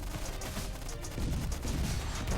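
Tank battle in the video game Stickman Trenches, a dense fusillade of gunfire crackling continuously, with heavier thumping blasts building in the second half, loud and close.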